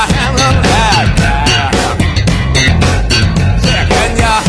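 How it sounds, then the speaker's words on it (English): An electric bass played in a sliding style, with dense, punchy notes and gliding pitch bends in a continuous loud groove, up close and without any talk over it. "I call it slide bass."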